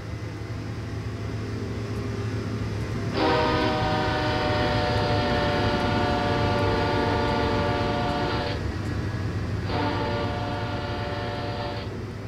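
A train in a simulator game on a Canadian mountain pass, its engine rumbling steadily while the horn sounds two long loud blasts, the second shorter, with no talk.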